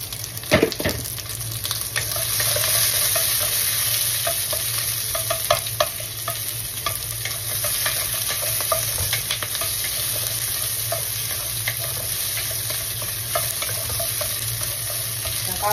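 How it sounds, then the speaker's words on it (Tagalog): Sweet and sour spare ribs being stirred in an iron wok, a continuous loud sizzle with scraping and clinks of the spatula against the metal. "Pakahalo-halo nyo"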